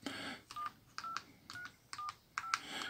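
A Bosch 509 Dual mobile phone from around 2000 gives about six short electronic keypad beeps at a steady pace, with a faint click from each button press, close and clear in an otherwise quiet room.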